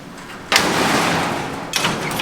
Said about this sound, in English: opens and closes and latches.